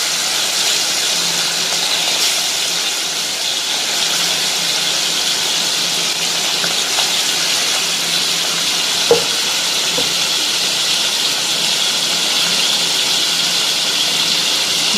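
Prawns fry in hot oil in a pan for a spicy prawn thokku, giving a continuous bright hiss and crackle that stays steady and close throughout with no voices.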